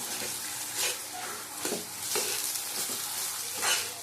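Mashed taro paste with shrimp is stirred in a frying pan, a continuous sizzle broken by repeated scraping strokes of the spatula, close and fairly loud with no talking.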